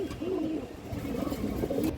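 Pigeons cooing in a cage, a soft, low, rolling coo repeated several times, fairly quiet against steady background noise.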